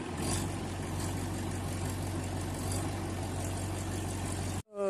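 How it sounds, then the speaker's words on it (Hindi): Farm tractor engine idling and rumbling steadily at close range, a continuous low drone with no voices, cutting off abruptly near the end. "देखिए ये भी अभी जा रहे हैं ट्रैक्टर लेके।"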